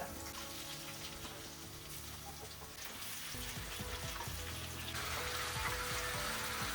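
Marinated fish is dropped into sautéed onions in a pot and fries with a continuous crackling sizzle that grows a little louder and denser toward the end, with faint clatter in the background.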